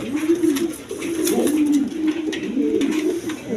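Pigeons cooing close by, a soft, low, repeated warbling coo in several rolling phrases, with faint background noise.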